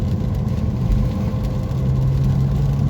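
A BMW car engine idles steadily with a low, even rumble and a faint hum, close and continuous, with no voices.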